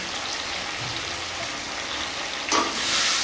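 Vegetables, drumstick and brinjal among them, sauté in a pan with a dense, steady hiss of frying, and a louder sizzling swell near the end as they are stirred.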